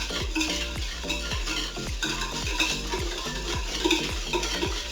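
A whisk beats eggs with sugar in a bowl, a steady rhythmic clinking scrape about twice a second, close and fairly quiet, with no talk.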